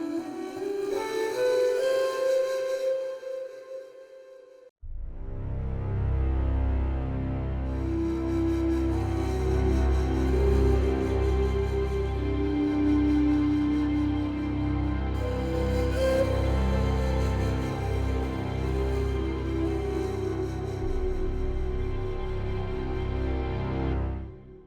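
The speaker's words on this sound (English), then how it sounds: "let's look at the Lydian scale, which if you remember, the Lydian scale has a sharp 4" Music built on the Lydian scale with its sharp fourth, a plucked melodic line at first, then after a brief break a full sustained layered arrangement swelling with a rising tune on top.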